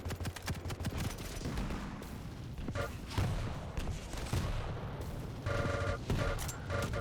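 Rapid gunfire and explosive blasts from rockets and a shotgun in a competitive arena shooter playoff match, dense repeated shots and booms running continuously throughout, loud and close.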